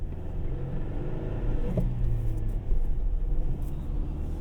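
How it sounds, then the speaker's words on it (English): A 2024 Toyota Tacoma pickup with a 6-speed manual rumbles steadily, its revs holding and easing through a gear change, heard from inside the cab without talking. "look at the rev hang as we shift gears here"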